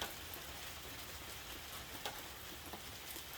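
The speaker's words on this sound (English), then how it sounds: "it's still raining" Steady rain falls outdoors near a boat, a dense, even hiss of drops with a few louder patters, faint and continuous with no voices.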